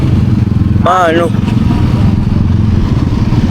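A motorcycle engine runs loud and close with a steady rumbling idle, and a voice briefly speaks over it.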